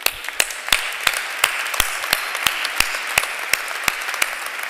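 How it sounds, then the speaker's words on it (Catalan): Scattered, separate hand claps from an audience inside a church. The sharp, close claps come at a loose, uneven rhythm over a softer bed of background clapping. "Per tant, un aplaudiment i una abraçada per la Marina Rossell des d'aquí."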